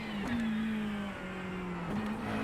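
Race car engine in a VR racing game at the Nürburgring Nordschleife (Green Hell), a steady droning tone that drops, rises again near the end and holds at moderate level with no talking.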